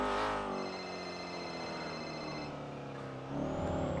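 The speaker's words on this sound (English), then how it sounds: "I'm driving the car." A car is driven with a steady engine drone and a faint whine. A louder burst comes at the start, the sound settles to an even hum, then swells again near the end, with no talk.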